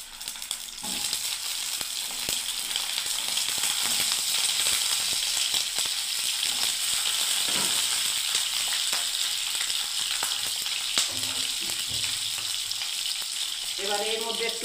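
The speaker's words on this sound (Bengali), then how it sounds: "তেল গরম হয়ে গেছে বন্ধুরা। এবার আমি সব পটলগুলোকে ছেড়ে দিচ্ছি।" Pointed gourd pieces frying in hot oil, a loud continuous crackling sizzle that stays steady throughout, with occasional stirring clatter toward the end and no voices.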